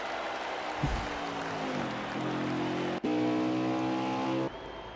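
Race car engines drone steadily at Richmond Raceway in a racing video game, several cars' tones rising and shifting as they run past, with a brief dropout near the middle before the loud engine roar resumes.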